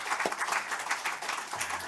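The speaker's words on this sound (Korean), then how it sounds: "하나님께 영광의 박수 올리겠습니다." A church congregation claps during a Sunday worship service, a dense, even burst of many hands applauding together at moderate loudness, steady for a couple of seconds.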